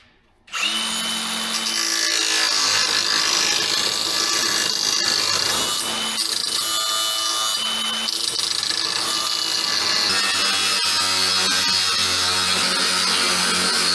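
Power tool cutting through a trailer's steel plate, a loud continuous grinding whine that starts abruptly and holds steady for about thirteen seconds, close and alone with no voices.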